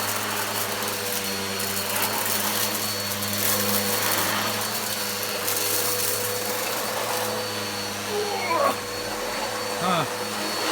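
A Goblin bagless vacuum cleaner runs with its brush roll spinning, a loud, steady whine and roar throughout, with a voice talking briefly near the end.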